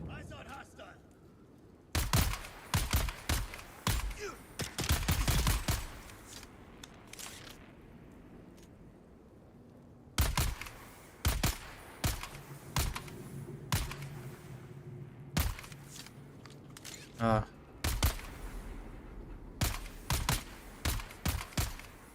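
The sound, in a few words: rifle gunfire in the video game Dune Awakening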